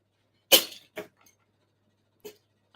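A single sharp sneeze bursts out in a quiet room, followed by a couple of smaller snorts and breaths, with another brief puff about two seconds later.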